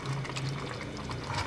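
Water boils in a pot of aloo gosht pulao with potatoes, meat and rice, giving a steady close bubbling and soft patter that runs throughout with no talk.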